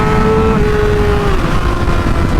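A Yamaha R6 sport motorcycle engine screams at high revs, loud and close, with a sustained rising-then-falling engine tone over heavy wind rush for a couple of seconds.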